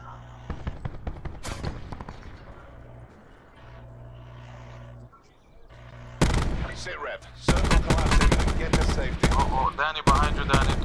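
Gunfire in Call of Duty Blackout, with scattered shots early on, then loud rapid bursts in the second half over a low rumbling game backdrop.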